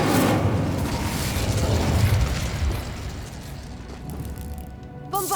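The Incendio fire spell in Hogwarts Legacy bursts out as a loud, roaring whoosh of flame that swells, then fades into a crackling tail before a short metallic clink at the end.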